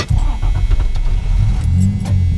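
1979 Plymouth Volare with a 225 Slant Six engine cranking in rhythmic pulses and then catching, loud and close, with no talk.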